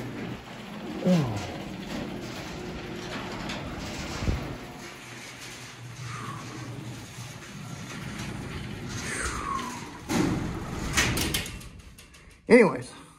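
A garage door in a workshop is pulled shut with a drawn-out rumbling slide, followed by a louder clatter and a sharp bang near the end.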